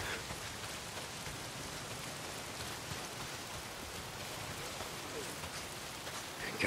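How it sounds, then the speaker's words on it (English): Steady rain pours down in the open-world zombie video game Days Gone, an even, hissing wash of falling water with a brief louder patch near the end. "If it's not the freaks, it's the goddamn rain."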